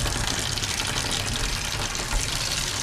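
Water runs steadily through an RV shower hose, a constant loud rushing hiss with no pauses, close by and alone without any talking.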